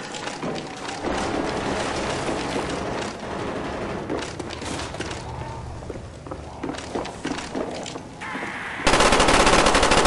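Rapid automatic gunfire fills Black Ops Zombies as players shoot down zombies, a dense, sustained stream of shots with brief breaks and a burst of louder game noise near the end.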